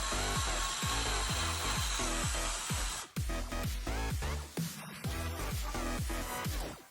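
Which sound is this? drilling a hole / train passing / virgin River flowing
drilling a hole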